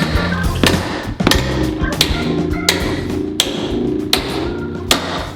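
Wooden crown molding being pried and hammered off a bedroom wall, with sharp, loud knocks and cracks every half second or so over a rough, scraping rattle of wood working loose.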